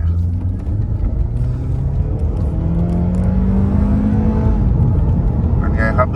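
A Honda Accord G8 with a 2.0-litre engine, E85 tune and 18-inch wheels accelerating hard, its engine note climbing steadily in pitch as the revs rise, with someone talking over the loud, close engine.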